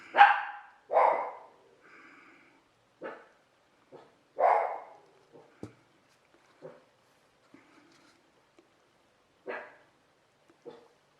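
A dog barks in short, separated bursts, loud and close at first, then fainter single yips with long quiet gaps between.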